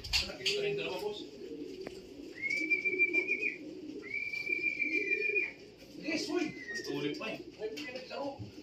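Racing pigeons at a home loft coo and whistle during a club race arrival, soft calls and a couple of drawn-out whistled notes heard beneath nearby talking.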